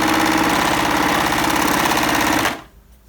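Bernette b44 overlock sewing machine running a four-thread stitch on a single layer of fabric, a steady close mechanical whir for about two and a half seconds before stopping abruptly into near silence.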